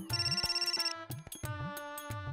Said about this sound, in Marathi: एक मिनिट, फोन आला